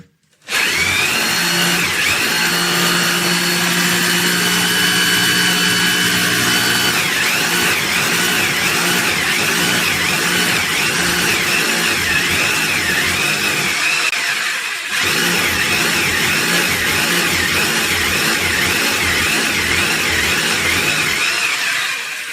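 A power drill runs loudly and continuously, its motor whining with wavering pitch, briefly easing off midway before resuming at full strength.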